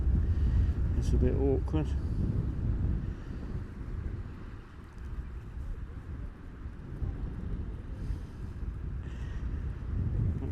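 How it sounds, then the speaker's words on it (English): Breezy side wind blowing left to right across the shore at Morecambe Bay, a steady low rumbling buffet on the microphone throughout, with someone talking briefly near the start. "I wouldn't say strong, but it's quite breezy left to right"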